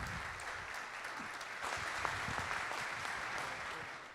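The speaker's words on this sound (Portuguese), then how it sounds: "Palmas para o nosso caríssimo homenageado." Sustained audience applause honoring an executive at an awards ceremony in Brazil, a steady wash of many hands clapping at moderate distance, swelling slightly midway and continuing without pause.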